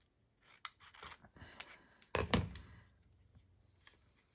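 Scissors trim a piece of paper for handmade journal cards, giving several short close snips and rustles with a louder cluster of cuts midway, then quieter paper handling.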